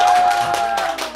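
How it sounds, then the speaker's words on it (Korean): Brief clapping from an audience at a Korean pumba folk performance, a short burst of hand claps under a steady held tone. "박수 한번."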